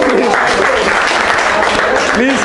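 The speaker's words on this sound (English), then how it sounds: "clap for them" Steady crowd applause at a travel quiz prize-giving fills the whole stretch, dense and continuous, with a few voices mixed in.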